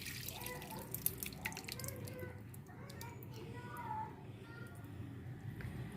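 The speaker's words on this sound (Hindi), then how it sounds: "अब ये इसको मसाले को हम दाल में डाल लेते हैं।" A cooked spice mixture for haleem is poured into dal with soft wet drips and splashes close by. The sound is quiet and uneven over a low kitchen background.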